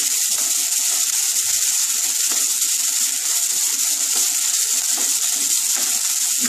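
Onion frying in a pan for a Bengali mustard fish curry, a steady dense sizzle with scattered crackles and pops running continuously, close and fairly loud, with no voices.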